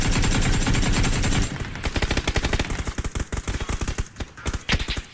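Rapid automatic gunfire in PUBG, a dense stream of sharp close shots breaking into uneven bursts after a steady roar at the start.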